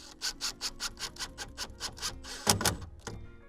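Screws are driven through a plastic saddle clamp fitted over an irrigation pipe, a steady run of about a dozen evenly paced rasping turns from a nearby driver, ending with a couple of heavier grinding twists, no voices.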